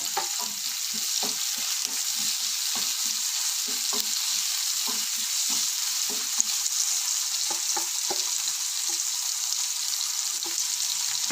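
Chopped tomatoes frying in a pan for a brinjal fry, with a bright, dense sizzle running throughout and soft, quick stirring taps scattered over it, steady and close, no voices.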